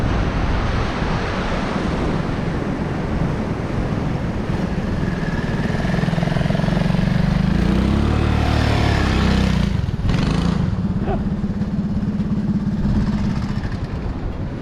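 An off-road bike climbs hills and bumps through big ruts, its engine a droning hum swelling midway, buried under heavy wind roar against the microphone with no talk.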